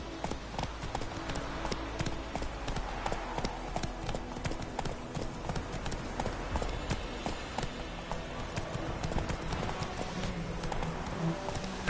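Hooves of the horse Roach clop rapidly in a galloping rhythm across the ground in The Witcher 3, a busy, close, continuous patter with a faint snort, running alone for the whole stretch.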